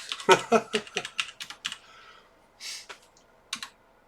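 Quick keystrokes on an English-layout computer keyboard as a password is typed: a dense, close burst of clicks, then a few sparse, separate key taps.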